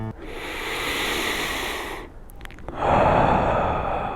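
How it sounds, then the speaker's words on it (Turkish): A deep, slow breath drawn in with a long airy hiss, a short pause, then a strong exhale, close and clear. "Derin nefes ve al ver."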